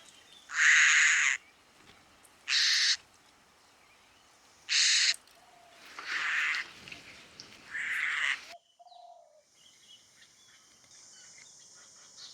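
Defensive raspy calls of a Eurasian hoopoe in a Thai garden, five harsh hissing bursts about a second each at fairly close range, with quieter background chatter after them.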